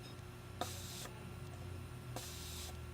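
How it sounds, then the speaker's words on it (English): Two short hissing sprays from a cologne pump atomizer, each lasting about half a second, separated by a pause, close up in a quiet room with a faint hum. "Continuous spray, wide distribution, phenomenally done."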